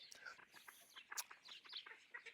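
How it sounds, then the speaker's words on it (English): Chicken hen clucking and chattering in short bursts at a drake on a homestead, a busy run of quiet, close calls with some faint background bird noise. "that hen walked right up to that drake and just started just chattering at him"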